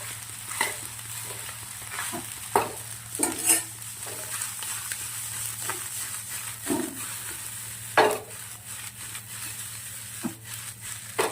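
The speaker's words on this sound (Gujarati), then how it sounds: "હવે આપણે લીલા દાણા નાખી દેવાના છે. મિક્સ કરી દઈશું સરસ." Green peas being stirred into vegetables in a pan, a steady low sizzle with soft scraping strokes of a spoon at irregular intervals, close and moderately quiet.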